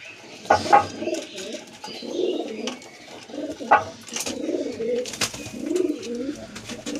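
Pigeons released from their coop in the morning coo repeatedly in soft, throaty rolling phrases, fairly close, with a few sharper bird calls and light rustling between them.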